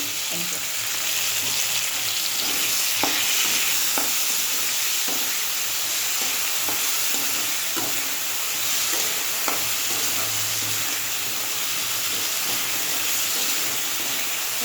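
Ginger and garlic fry in a pan with a steady, close sizzle and hiss that runs the whole time, broken by soft occasional clicks of stirring. No one speaks.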